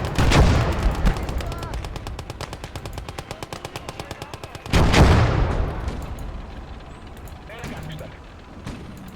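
Video game Motherland battle with rapid automatic gunfire rattling in a long steady burst, a heavy booming anti-tank rifle shot midway, then scattered distant fire fading away.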